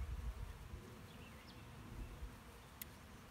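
Honey bees hum and buzz around a top bar hive while package bees are installed, a steady low drone close by with a few individual insects passing nearer.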